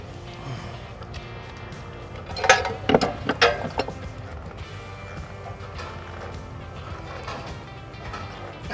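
A fuel filter is snugged down by hand on an LT70 Woodmizer sawmill, giving a short cluster of faint creaking, clicking turns midway through against a low, steady background rumble.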